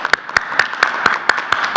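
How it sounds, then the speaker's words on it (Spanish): Sharp, evenly spaced claps ring out about every quarter second, like a single person or small group applauding at a press briefing on coronavirus. "Vamos a darle un aplauso."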